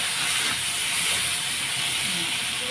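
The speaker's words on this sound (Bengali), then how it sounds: "দেখো একদম কষানো হচ্ছে" Turmeric, salt and spices sizzling loudly in a pan as a Bengali curry base is sautéed, a steady close hiss and crackle without pause and no talking.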